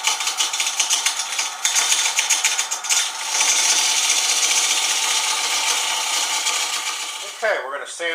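A wooden vase is sanded while spinning on a lathe, a continuous close, abrasive hiss that rises and holds steady before trailing off with a few rubbing scrapes.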